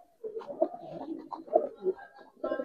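Pigeons on a farm give a run of soft, throaty coos in close succession, fairly near and moderately loud, with short pauses between the bursts.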